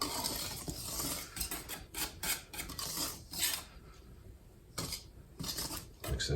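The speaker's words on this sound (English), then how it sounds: "I'm going to whisk this in right now. Just dry blend the ingredients good." A whisk scrapes and rasps through dry flour and baking powder for Irish soda bread in a bowl, in close, irregular bursts of quick rubbing strokes separated by short pauses.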